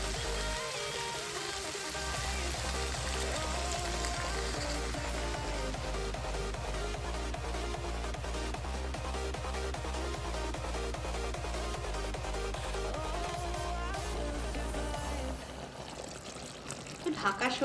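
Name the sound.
water poured into pan of cooking chicken lababdar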